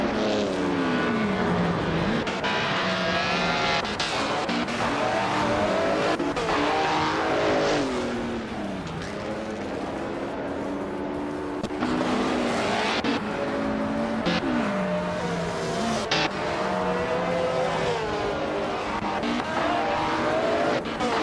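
Several race cars roar through a video game race, engines rising and falling in pitch as they accelerate and shift, with occasional tire squeal, loud and continuous with no talking.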